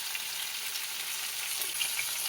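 Malabar spinach stems and potato sizzle steadily in hot oil, a close, bright crackling hiss with no talking.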